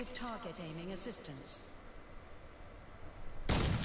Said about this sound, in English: And just toss your grenade.